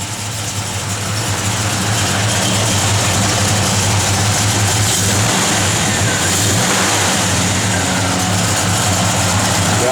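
A 1965 Chevrolet Malibu engine runs steadily with a low, loud, rumbling idle, close by and continuous throughout.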